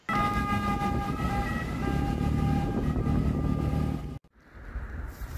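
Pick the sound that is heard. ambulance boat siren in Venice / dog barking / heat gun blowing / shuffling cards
ambulance boat siren in Venice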